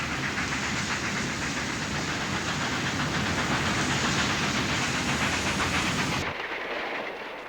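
Russian Decapod steam locomotive number 2453 pulling out of North Hawthorne, New Jersey, on a heavy freight line, a loud continuous hiss and chuffing roar that holds steady, then drops away abruptly near the end.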